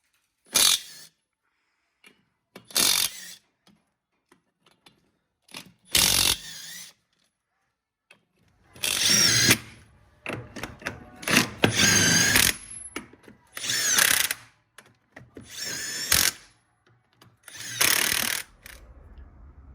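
A Makita 40V MAX XGT brushless 1/2-inch mid-torque impact wrench runs in several loud, separate bursts at different speeds, with short silences between the bursts and a longer run near the middle.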